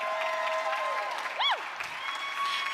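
Indoor crowd at a women's doubles championship applauding and cheering steadily throughout, a moderately loud wash of clapping with a brief tonal whistle-like sweep in the middle.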